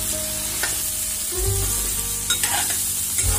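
Pointed gourd stir-fried in a pan on a gas stove, with a steady sizzle and the scrape of a spatula stirring the pieces and a few clinks against the pan.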